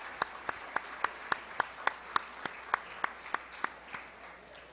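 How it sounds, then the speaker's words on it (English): A few people clap in slow, sparse, evenly spaced claps against a quiet room background at an anniversary gala banquet. "Please give a warm round of applause."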